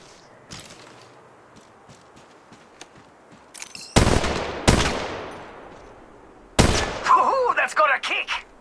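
Gunfire in the mobile battle royale game Apex Legends Mobile: after quiet clicks and light footsteps, several loud close shots ring out with long decaying echoes, followed by a rapid burst of fire.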